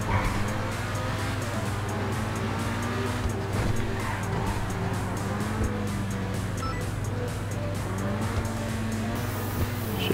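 Grotti X80 Proto supercar driven on a street in GTA 5, engine droning steadily with shifting revs and tire squeal, loud throughout under game sounds.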